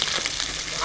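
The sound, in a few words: black cumin seeds sizzling in hot oil for tempering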